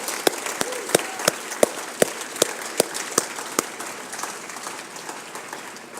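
An audience at a law school anniversary ribbon-cutting ceremony applauds, with sharp, regular claps standing out at first over the crowd before the clapping thins and fades.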